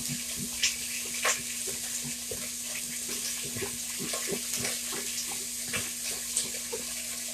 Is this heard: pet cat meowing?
no